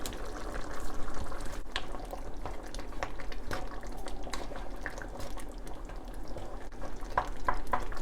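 Golden Curry roux cubes being stirred and broken down into a simmering beef curry liquid, with a steady close bubbling and sloshing bed broken by intermittent clicks of a utensil against the pot.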